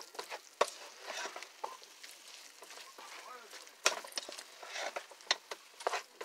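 A spoon stirs flour into the meat juices of chili verde in a pan over low heat, giving soft scraping and clinking strokes with a light sizzle underneath, close and fairly quiet.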